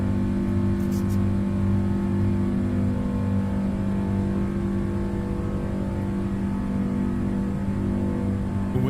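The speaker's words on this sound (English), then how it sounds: "Listen to those engines." Simulated Rolls-Royce engines on a PMDG Boeing 777 in Microsoft Flight Simulator give a steady, loud droning hum with layered tonal whine, continuous and unchanging for the whole stretch.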